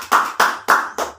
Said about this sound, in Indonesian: Tepuk tangan buat saudara kita.